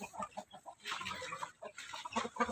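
Native Iloano chickens and a large rooster cluck in a run of short, close calls, several birds overlapping with busy, irregular clucking.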